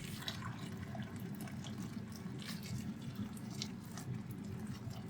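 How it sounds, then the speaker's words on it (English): Hot water from a kettle pours into a container of large American-style hot dogs, giving a steady continuous liquid rush with a few splashy drips, close and moderately loud, without talking. "Fill this up with hot water from the kettle."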